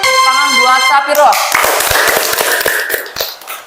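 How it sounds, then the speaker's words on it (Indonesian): Students in a classroom clap for a classmate who answered a question correctly. A voice fills the first second, then a scattering of sharp, close hand claps follows irregularly and thins out. "Tepuk tangan buat Sapiro."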